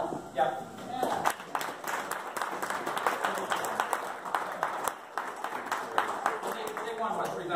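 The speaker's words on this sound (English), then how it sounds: "Round of applause?" An audience at an awards presentation gives a round of applause, scattered uneven claps mixed with voices talking over the top, moderately loud and fairly close throughout.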